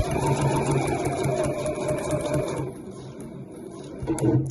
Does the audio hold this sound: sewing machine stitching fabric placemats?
yes